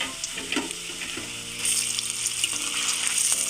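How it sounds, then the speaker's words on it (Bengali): Pointed gourd (potol) koftas fry in hot oil with a dense, steady sizzle and crackle close up, growing slightly louder partway through. "দিয়ে দেবো গরম তেলে। তেলে দিয়ে পরে কিছুক্ষণ একে রাখতে হবে"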